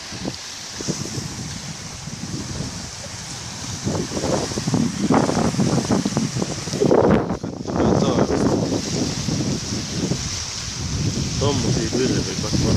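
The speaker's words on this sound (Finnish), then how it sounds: "Hirveä kylmä tuuli." Cold wind blows at a lakeside, a loud, continuous roar and buffeting against the microphone that rises and falls in gusts, with a voice speaking at times underneath.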